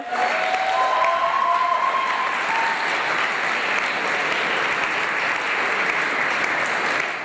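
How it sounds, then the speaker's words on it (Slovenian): At a school's closing event, an audience breaks into loud, sustained applause, a dense and steady wall of clapping with a brief whistle-like tone near the start. "Še en aplavz za šilarje."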